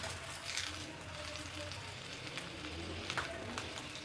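Radish (mooli) paratha fries on a hot griddle with a soft, continuous sizzle and faint crackles, quiet and steady throughout.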